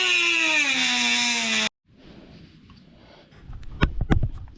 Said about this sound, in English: So I'm going to use my Dremel.